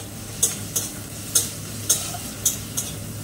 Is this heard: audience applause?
no